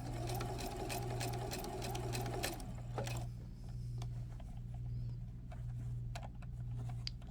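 Juki sewing machine stitching bias tape onto a neckline, a fast continuous mechanical whir and needle chatter that runs loud for a few seconds, then drops to a softer idle hum with occasional clicks.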